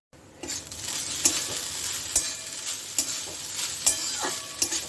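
Leftover lunchtime rice fries in a pan with a steady close sizzle, punctuated by regular sharp spatula scrapes and taps against the metal.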